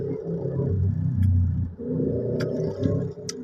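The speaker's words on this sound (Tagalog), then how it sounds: "Traffic all the way." Bumper-to-bumper traffic crawls along Chino Roces Avenue, formerly Pasong Tamo, in Barangay San Antonio, a close, steady rumble of idling and slowly moving engines with a few faint higher clicks and squeaks on top.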